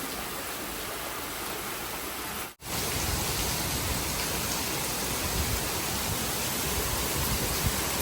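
Heavy night rain pours steadily in Rajkot as a dense, unbroken wash of hiss, loud and close, briefly cut out for a split second before resuming just as strong.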